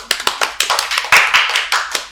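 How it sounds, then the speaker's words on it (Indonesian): Applause from a small studio audience on an Indonesian talk show, a burst of clapping with distinct hand claps of uneven rhythm, fairly close and without talk. "tepuk tangan buat PSI itu"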